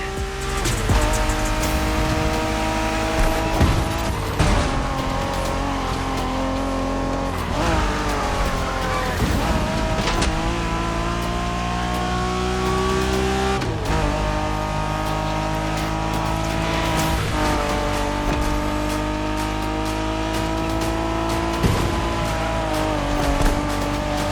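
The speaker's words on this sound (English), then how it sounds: "We're going for some proper Japanese street racing." Racing cars in The Crew Motorfest, Japanese street racing with a 1990s NSX, roar continuously with shifting engine pitch and tire squeal throughout, loud and close the whole time.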